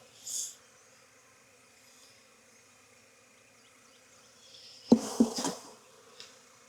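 Faint, steady buzzing of honeybees around a hive in Jacksonville, Florida, with brief louder rustles and handling noises near the end.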